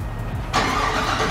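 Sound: Cadillac engine starting

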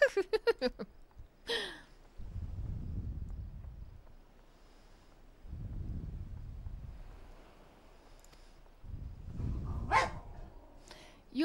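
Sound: dogs barking

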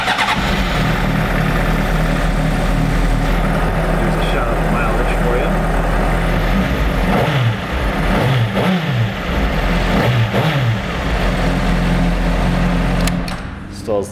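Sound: Honda CBR600RR motorcycle engine starting and idling, stock exhaust

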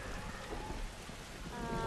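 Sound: rain in the video game The Last of Us

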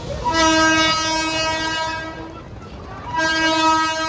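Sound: train at railway station

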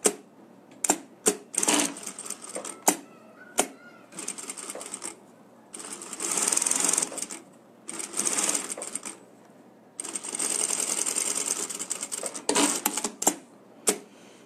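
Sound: sewing machine stitching wallet pockets

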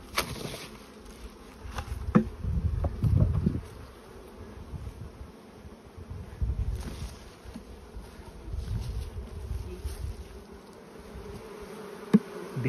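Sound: honey bees buzzing on hive frames

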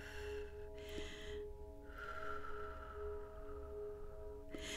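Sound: person breathing deeply

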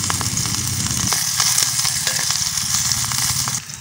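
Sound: onions frying in hot mustard oil

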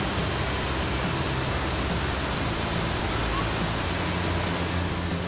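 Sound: Chet Sao Noi waterfall

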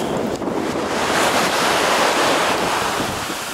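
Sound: ocean waves surging onto a beach

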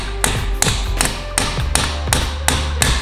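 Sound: hammer tapping suspension parts back into place on a Cadillac ATS

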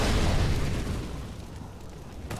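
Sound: Molotov cocktail exploding in Counter-Strike video game

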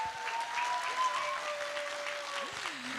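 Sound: audience applause for festival participants

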